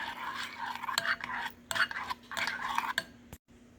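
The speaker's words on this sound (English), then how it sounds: "Stir it around" A spoon stirs macadamia milk into a bowl with banana, making soft, rhythmic scraping strokes close by, with no talking.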